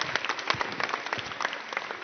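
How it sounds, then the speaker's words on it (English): An audience at a seminar applauds, a lively, fairly close patter of individual claps that fills the short moment without speech. "everyone a big round of applause"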